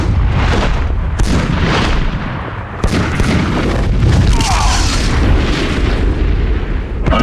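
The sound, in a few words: weapons firing in Superman: Shadow of Apokolips video game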